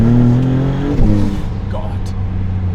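A Maserati Italian supercar engine revving: a loud, close engine note that climbs and then drops away, with a voice speaking over it.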